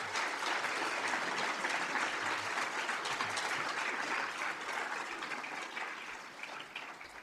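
A crowd at a career and technical education award ceremony applauds as students come up, a continuous fairly faint wash of clapping that tapers slightly toward the end.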